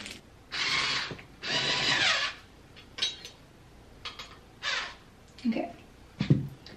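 Screws are driven into a closet organizer with a power screwdriver in several short whirring bursts, two longer ones first and then quicker spurts, close by with light handling noises between.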